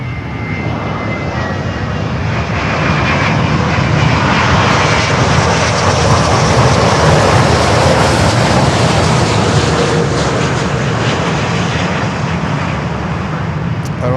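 A large airliner touching down and rolling out on the runway at Miami International Airport, a loud steady roar of jet engines and rushing air holding strong throughout, with a faint voice underneath.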